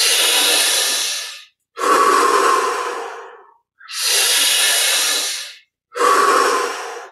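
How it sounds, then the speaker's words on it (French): Deep, slow breaths during a guided meditation, four long airy inhales and exhales in steady alternation, loud and very close with no talking. "Cinq dernières respirations."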